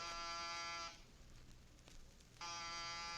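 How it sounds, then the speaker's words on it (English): An apartment door buzzer sounds in two long, steady electric bursts, the first lasting about a second and the second starting after a short pause, fairly loud and with no one speaking. "No answer to the door buzzer."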